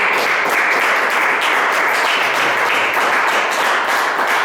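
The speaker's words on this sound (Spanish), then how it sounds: "Denle una aplauso." A church congregation applauds at the end of a service with a continuous wash of many hands clapping, dense and loud, with no break in the sound.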